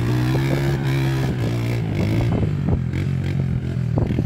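Honda motorcycle engine sputtering to life after being flooded, then revving in uneven bursts with rattling clatter, close and loud, with no talk.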